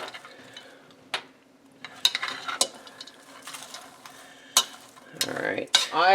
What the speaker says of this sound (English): Let's give this all a stir.